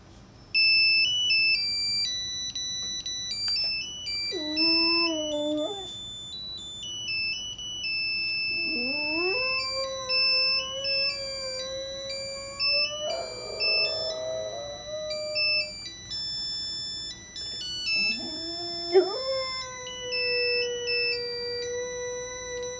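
A pet sings along with an old cell phone's electronic melody ringtone, its wavering sustained vocal tones rising and holding in several phrases over the repeating beeping tune, close and clear.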